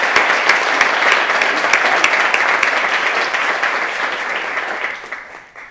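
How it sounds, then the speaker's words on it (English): A crowd at an awards ceremony applauds loudly with dense, rapid clapping that holds steady, then gradually thins and fades away at the end. "let's please give a round of applause."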